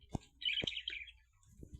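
Fischer's lovebirds, a male and female pair, chatter in a short run of shrill, squeaky chirps, heard close and fairly quiet, broken by a few soft knocks and taps.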